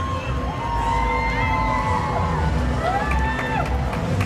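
Parade crowd at Rivertown Days cheering and whooping for a city council candidate dressed in Vikings purple, a loud, continuous wash of shouts and whistles with children's voices, steady throughout.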